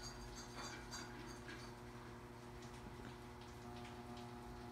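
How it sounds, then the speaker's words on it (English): Rain falls steadily in California, a constant dense wash with faint ticking drops over a low steady hum, unbroken throughout and with no talking. "You can probably hear the rain and stuff."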